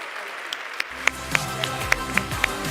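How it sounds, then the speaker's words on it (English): Applause from a conference audience at the ChangeNOW sustainability event, starting after a brief quiet moment with a few loud, distinct claps standing out over a steady wash of clapping. "Please make a beautiful round of applause."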